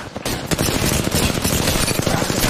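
Rapid automatic gunfire in Apex Legends at the Central Turbine, a dense, loud, continuous burst of shots from close range with overlapping weapons and no pauses.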